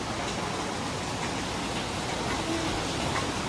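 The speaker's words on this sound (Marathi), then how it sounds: "बाहेर बघा अजून पाऊस आहे, काल रात्रीपासून पाऊस आहे." Steady rain falls outdoors along the Kedarnath trekking route, producing an even, continuous wash of hiss that stays constant and moderately loud throughout, with no talking.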